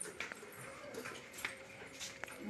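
A puppy whimpers softly in a few short, thin whines scattered over a faint, steady background, with no one talking.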